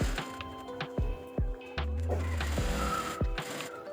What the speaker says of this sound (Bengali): একই নিয়মে আমি আরেকটি পাশ সেলাই করে নিব।